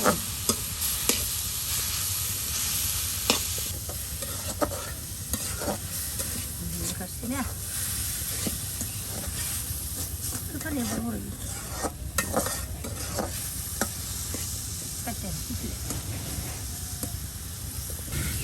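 Boiled vegetables frying in a pan in a rural home kitchen on a river char, a steady hissing sizzle with frequent spatula scrapes and taps, close and moderately loud throughout.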